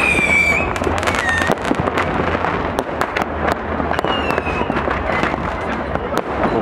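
New Year's Eve fireworks and firecrackers over the Rhine in Cologne crackle and bang in dense, constant bursts, with whistling rockets rising and a loud wash of explosions.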